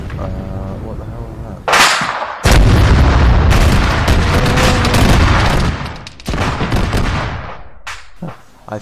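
Heavy 30mm cannon fire from a Cessna light aircraft in ARMA 3, loud sustained bursts of booming rapid fire with a brief gap, then more bursts fading out.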